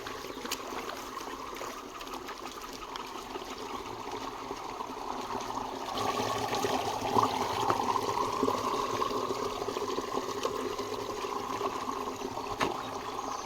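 Water trickles and flows steadily and continuously into a field channel, getting slightly louder partway through, with no voices.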